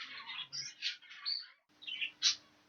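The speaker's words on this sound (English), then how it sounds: "we'll get these birds out and have a look at these young birds" Young cage birds chirping close by in a shed aviary, a string of high squeaky tweets and short calls in irregular bursts with a brief pause, no voices.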